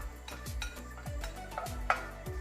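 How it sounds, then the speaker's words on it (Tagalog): A spoon stirs chicken arroz caldo with oatmeal in a pot, making repeated rhythmic scraping and soft clinks against the pot, close and steady, with one sharper knock near the end. "haluin lang natin siya ng mabuti"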